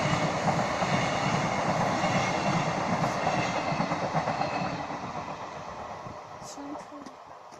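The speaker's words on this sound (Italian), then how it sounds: "È un treno locale. Sta rallentando, va in stazione." A local train slowing as it pulls into a station, a loud broad rumble of wheels and carriages that fades gradually toward the end, with a person speaking over it.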